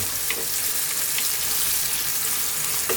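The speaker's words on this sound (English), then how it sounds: "we're now going to add in that cream" Cream poured into bell peppers frying in a pan for pasta gives a loud, steady sizzle and crackle, close up and continuous, with faint spatula taps and no talk.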